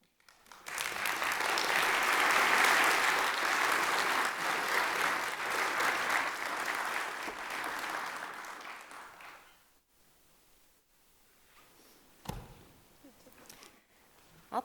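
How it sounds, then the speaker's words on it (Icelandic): An audience applauds graduating students at a ceremony in a hall, a full sustained round of clapping that swells, then fades after about nine seconds into quieter scattered sounds and a few isolated claps. "Ég vil bara biðja ykkur að klappa vel fyrir nemendunum þegar þau koma og taka við skírteinunum."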